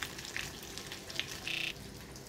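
Rohu fish frying in hot oil, a steady soft sizzle with brief brighter crackles and pops, close and alone with no talk.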